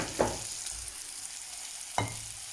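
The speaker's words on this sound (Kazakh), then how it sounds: "менің күрішім қуырылып жатыр" Rice frying in a pot, with a low steady sizzle and two sharp scraping stirs, close and fairly quiet.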